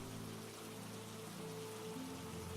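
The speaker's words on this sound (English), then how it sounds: "but the raindrops are quite refreshing" Steady rain falling and pattering on a surface, a soft, even, continuous hiss of raindrops, faint and unbroken, with no voices.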